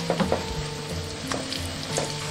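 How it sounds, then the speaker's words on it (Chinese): A shredded radish and egg pancake sizzles in a frying pan over low heat, a close, steady crackle broken by a few soft taps and clicks. "煎这一面定型，我们给它翻面。"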